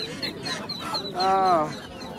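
A large native chicken clucks close by with a few short calls and one drawn-out cluck at a rural winter-afternoon poultry market in Bangladesh, while people talk in the background.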